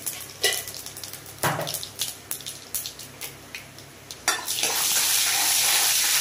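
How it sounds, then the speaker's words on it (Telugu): Dried chillies, mustard seeds, cumin and chana dal go into hot oil as tempering for curd chutney. A few sharp clinks and stirring knocks come first, then a sudden loud, steady sizzle takes over. "ఇప్పుడు పెరుగు పచ్చడికి తాలింపు వేసుకుంటున్నాను"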